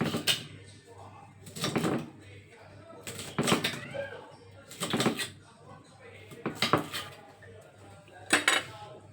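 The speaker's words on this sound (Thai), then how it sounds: "มาตำถั่วปีกันนะคะ" Winged beans pounded in a mortar for a spicy Thai-Lao salad, heard as loud, close knocks repeating about once a second with clattering, dish-like ring and a faint background hum.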